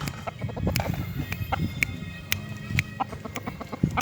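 Chickens cluck and squawk nearby in a busy, overlapping chorus, with sharp louder calls standing out over the steady flock noise.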